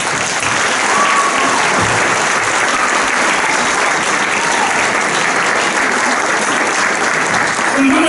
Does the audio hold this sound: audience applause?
yes